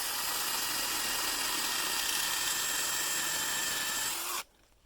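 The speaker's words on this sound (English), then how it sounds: "And we should be good to drill straight through the other side" A power drill bores straight through a tower guide wire bracket for a wind turbine, giving a loud, steady high whine that runs unbroken for over four seconds and then cuts off abruptly.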